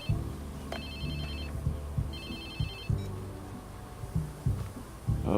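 A phone rings in Watch Dogs 2 with repeated electronic trilling bursts over a throbbing music bed, steady and prominent with no talking.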